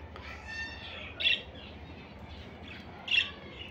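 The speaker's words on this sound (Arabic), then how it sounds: "طيور حب رينبو بهن سكاي، طيور خير من الله" Faint chirps of rainbow sky-blue lovebirds over a low background hum, two brief sharp calls standing out amid softer chattering.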